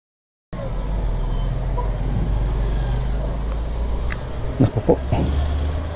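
Steady street traffic noise with a low engine drone from nearby vehicles, a few brief louder knocks near the end.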